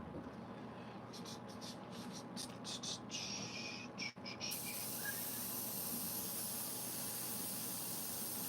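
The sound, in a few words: airbrush hissing while cleaning out white paint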